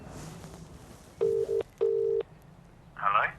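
Telephone keypad tones beep in two steady sustained presses, close and clear, followed by a brief higher chirp, with quiet room ambience and faint talk around them.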